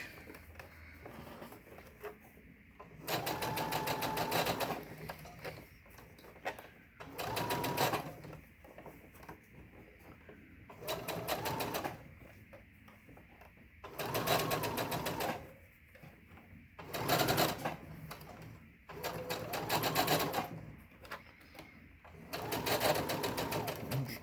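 A sewing machine stitches a fabric face mask with a filter pocket, running in repeated bursts of a few seconds separated by pauses, close and fairly loud, with someone talking quietly between runs.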